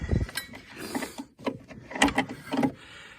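A 12 mm wrench breaking bolts loose on a 1981 Yamaha SS 440 snowmobile: a few short metallic clanks and ratcheting knocks in bursts, close and moderately loud, with no talking.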